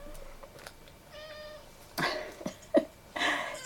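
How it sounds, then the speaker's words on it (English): Cat meowing indoors, a short tonal meow midway and a couple of brief cries later, close but soft. "given the presence of the cat"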